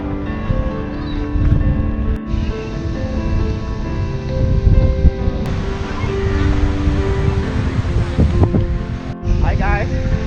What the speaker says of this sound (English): The beach, Lake Huron.